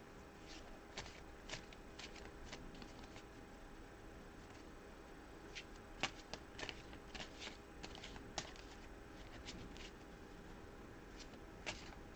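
Oversized tarot cards are shuffled in soft, papery riffles and slides, repeated steadily and heard close but quietly, with no speech.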